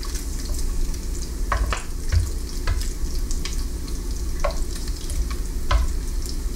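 Great Value hickory smoked bacon fries in a pan with a loud, continuous sizzle and crackle, while occasional sharp pops and utensil taps stand out over it.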